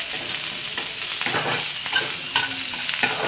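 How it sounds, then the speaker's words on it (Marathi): Sliced onions fry in a pan until red, giving a loud, steady close-up sizzle broken by repeated scraping and stirring strokes, with no voices. "लाल होईपर्यंत परतून घ्यायचं आपल्याला"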